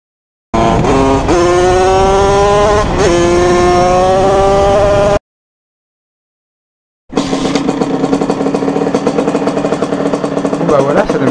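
A DT 50cc two-stroke moped fitted with an 86cc aluminium top end starts up: a first run of rising revs cuts out, then after a gap the engine fires again and keeps running with a buzzy, crackling note, close and loud.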